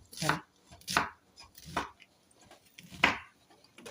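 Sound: knife chopping food for a dropped egg dish

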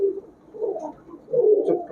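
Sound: high-flyer Giribaz pigeon cooing

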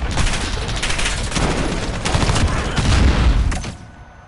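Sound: gunfire in the Modern Warfare video game

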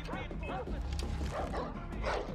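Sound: dog barking in video game Far Cry 4

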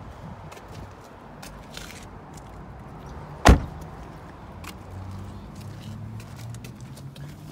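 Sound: rear door of a Hyundai Veloster car

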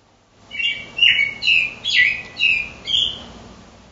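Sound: recorded bird song, robin or cardinal

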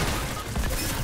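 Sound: gunfire in a video game

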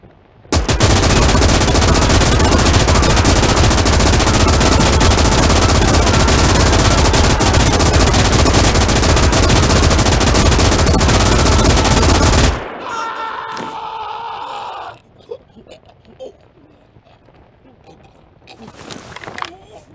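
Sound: enemy machine gun and artillery fire in video game Gates of Hell

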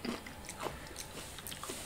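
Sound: crunching and chewing Takis chips

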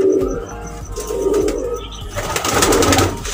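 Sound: pigeons cooing

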